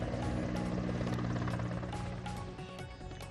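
An Indian Air Force helicopter passes over a hospital during a flower-shower salute, its rotor thudding loud and near before the steady roar begins to fade toward the end.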